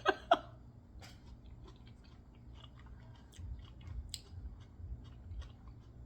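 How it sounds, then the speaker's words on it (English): Wet mouth smacks while eating birria taco noodles and salad: two sharp, close clicks right at the start, then soft, faint chewing noises over a low background rumble. "it gives that smacking effect"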